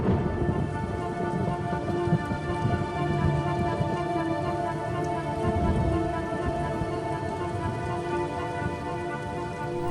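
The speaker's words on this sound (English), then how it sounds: "the rains continue to fall in a ceaseless torrent" Heavy rain pours down in a ceaseless torrent over the wild, a dense steady roar of drops hitting surfaces. The sound stays loud and unbroken throughout, with a low rumble beneath it that suggests distant thunder.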